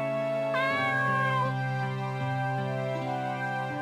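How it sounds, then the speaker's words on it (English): A cat meows in an RPG Maker video game, one loud close drawn-out meow riding over a looping melodic music bed, with no talk. "There's a cat!"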